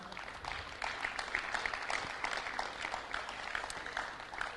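Audience applause at a Digital Africa conference and exhibition, a steady wash of clapping from a crowd that holds at an even level throughout, with no speech over it.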